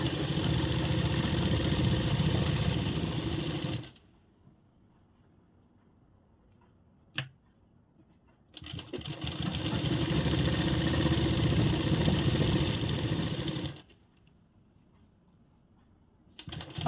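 A sewing machine stitching a kurti hem runs in two long bursts of steady mechanical whirring, each lasting several seconds and separated by quiet pauses with a single brief click between them.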